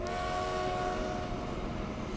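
A freight train in the video game Transport Fever, set around 1905, rolls past as a steady close rumble with a sustained tonal hum, continuous and unbroken.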